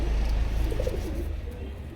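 Large, big-headed pigeons coo softly close by, a low murmuring burble that runs steadily through the whole moment.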